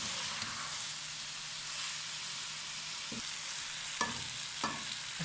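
Arbi and potato fry in a pan with a soft, steady hiss and sizzle, and a few distinct spoon knocks and scrapes near the end, quiet and close, with no speech.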